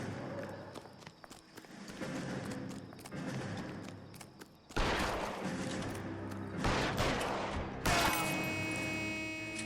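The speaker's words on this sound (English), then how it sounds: "They start shooting first." Gunfire in a shootout in the video game L.A. Noire, a steady rattle of shots and scuffling at moderate distance, then louder, nearer bursts of fire breaking in and repeating toward the end.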